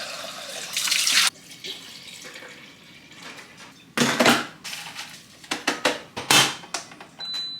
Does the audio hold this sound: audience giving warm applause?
no